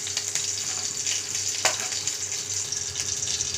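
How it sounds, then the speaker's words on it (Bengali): Chillies fry in hot oil with black cumin seeds, giving a close, steady hiss with faint crackles and one brief louder pop partway through. "লঙ্কাটা ভাজতে দিলাম"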